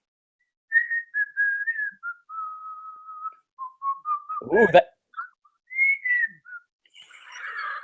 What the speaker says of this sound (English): there's that dwarven whistling skill that you've got there